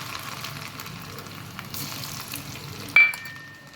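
Large mustard seeds and garlic sizzle and crackle steadily in hot oil for a spicy mango chutney, close and fairly quiet, ending in a sharp clink near the finish.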